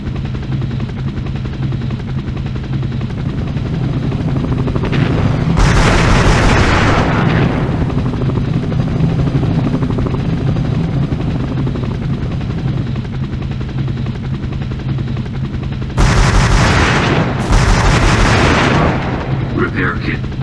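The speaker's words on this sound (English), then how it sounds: "Surrounded by enemy helicopters." Constant helicopter rotor drone throughout from enemy helicopters in a video game, punctuated by a few loud bursts of heavy gunfire or explosions, with a voice speaking briefly.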